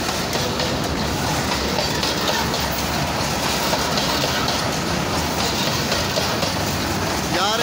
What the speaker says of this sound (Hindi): रोटी भी आ गई, ट्रेन भी आ गई है।